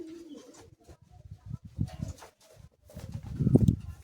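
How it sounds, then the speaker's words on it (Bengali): A large female Kalldum pigeon with a black tail coos close by in low, soft rolling bursts with short pauses, strongest near the end. "মাদি পায়রা এটা"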